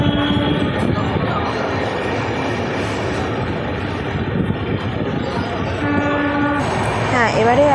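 The Sealdah Puri Duronto Express pulls out of Dakshineswar station with a loud, continuous rumble of wheels and carriages. Horn tones sound toward the end.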